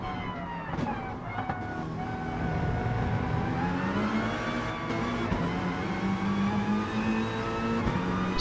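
A VW race car in Gran Turismo Sport drones continuously on board, its engine note rising and shifting pitch through the gears at steady high volume, with a commentator's voice faintly underneath.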